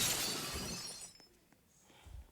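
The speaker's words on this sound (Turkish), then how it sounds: "Aa cam kırıldı." Glass shatters loudly in a Roblox game, a bright crashing burst that trails off over about a second, followed by quieter scattered debris sounds.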